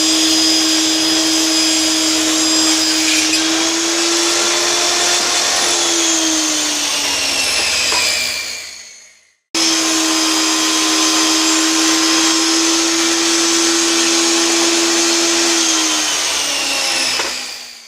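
A power saw rips wooden boards down to 3-inch width for a life-size Halloween skeleton build, running as two long, loud continuous cuts separated by a brief pause, with the motor pitch dipping steadily under load.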